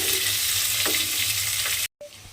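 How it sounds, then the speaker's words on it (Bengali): Chopped onion fries in a pan of hot oil, a loud, dense, continuous sizzle with light stirring, cut off abruptly near the end before it resumes more quietly. "এবার পেঁয়াজটাকে একটু লাল করে আমাকে ভেজে নিতে হবে"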